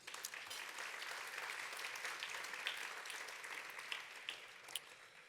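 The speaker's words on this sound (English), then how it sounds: "So round of applause for that," Faint, distant applause at a University Day service awards gathering, with scattered sharper claps poking out of a soft, even patter that continues throughout.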